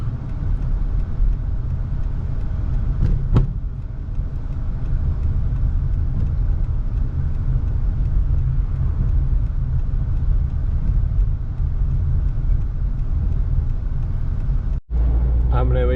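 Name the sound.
car driving along the road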